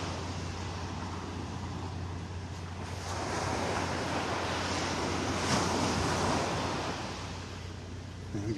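Surf washing steadily onto Vanderbilt Beach in North Naples, a broad continuous roar of waves that swells louder midway, with some wind buffeting the microphone and no voices.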